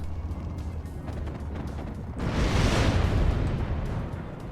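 A broad rumbling blast from the video game WARNO swells up over a constant low battle din, a single explosion that lingers for a couple of seconds before easing off.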